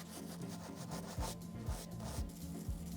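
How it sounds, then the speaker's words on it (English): Bristles scrub hard against old parts of a century-old Singer 99K sewing machine, faint repeated rubbing strokes in an uneven rhythm, close and without speech. "and got to work scrubbing"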